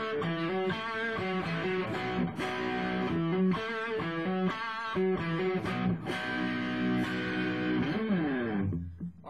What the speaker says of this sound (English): here's an open E on the Peavey Transtube